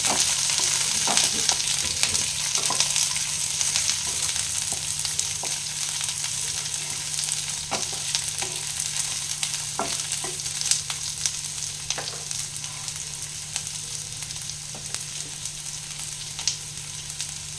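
Masala paneer sizzles steadily in a hot pan with chopped green chilli while a utensil stirs it, scraping and clicking at irregular moments over the constant frying hiss.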